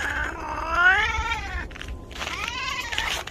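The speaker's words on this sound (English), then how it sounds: "listened to how the cat responded" A cat whines and meows repeatedly while out on a walk through snow after a storm, drawn-out rising and falling cries heard close and fairly loud, with a short pause between two calls.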